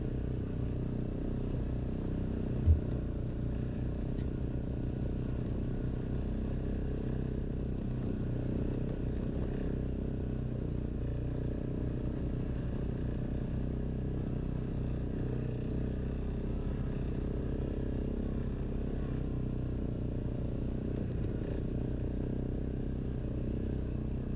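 An ATV engine drones steadily throughout a woods ride in Nova Scotia, a constant low rumble close by with slight shifts in revving and one brief knock early on.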